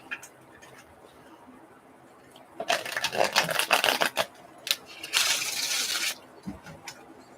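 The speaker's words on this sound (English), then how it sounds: "Couple ruffle shuffles, I guess." Close-up riffle shuffles: a rapid rattling flutter of cards, a brief pause with taps, then a second fast riffle and a soft bridge.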